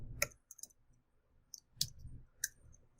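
Sparse keystrokes on a computer keyboard, a few isolated sharp clicks with pauses between them, close and fairly quiet against a faint low room hum.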